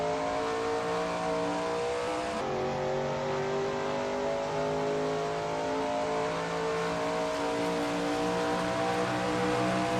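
Shelby Mustang GT350R racing at Zandvoort in a racing video game, its engine roaring steadily and loudly throughout with shifting harmonic pitch as it accelerates, a gear change around a quarter of the way in.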